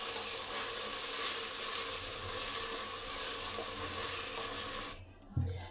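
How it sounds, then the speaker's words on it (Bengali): Gobindobhog rice stirred in hot ghee in a pot for payesh, a steady close sizzle and scraping hiss running continuously, then cutting off near the end with a brief knock. "এই চালটা এই ঘিয়ের সাথে জাস্ট 1 মিনিট নেড়ে নেবো,"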